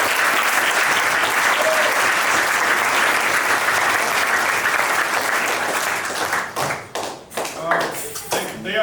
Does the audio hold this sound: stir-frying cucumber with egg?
no